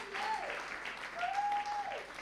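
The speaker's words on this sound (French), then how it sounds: "Acclame-le encore." A church congregation applauds and cheers during a sermon, producing a dense, sustained roar of clapping with raised voices and an amplified tone rising over the crowd.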